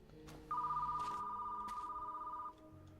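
Telephone ringing in the Hellmart video game, a single sustained electronic ring lasting about two seconds, clear and fairly loud over a quiet background hum.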